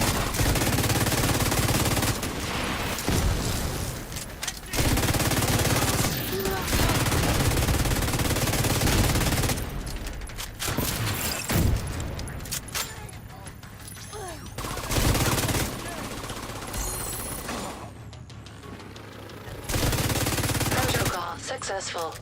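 Gunfire in the shooter game's Battle for Brooklyn DLC, sustained bursts of automatic and single-shot fire with loud, dense battle noise running almost continuously, broken by brief lulls, with speech mixed in.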